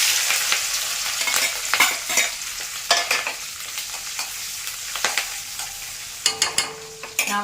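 Mustard seeds, urad dal, chopped onion, green chili and curry leaves frying in hot oil with a steady sizzle, while a spoon stirs and scrapes the pan in irregular knocks throughout.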